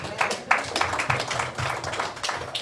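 A church congregation claps in praise during a Sunday service. The claps are dense and fairly rhythmic, like a crowd clapping together, and they fill the space at moderate volume.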